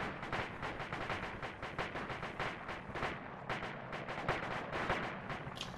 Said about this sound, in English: We are taking fire Roger. From the northern compound.